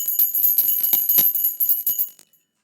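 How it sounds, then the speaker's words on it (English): Small bell rung rapidly as a sound effect during a live chat stream, a quick run of bright close dings for about two seconds before stopping, heard alone. "Let me ring the bell on that."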